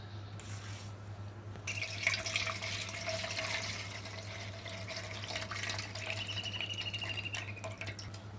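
Water runs steadily from a tap as wheat flour dough is washed repeatedly in a kitchen. A continuous splashing trickle with occasional drips sits over a low background hum.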